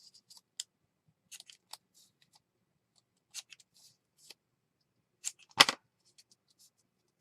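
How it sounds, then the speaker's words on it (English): Scissors snip through the corner of a small folded paper tag, a few sharp close clicks and one louder cut, with quiet handling between. "I'm going to cut this corner."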